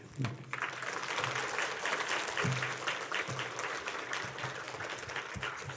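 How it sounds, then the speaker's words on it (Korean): A church congregation claps warmly after an appointment during a service, with steady, sustained applause while a voice carries on over it. "큰 박수 한번 보내주십시오"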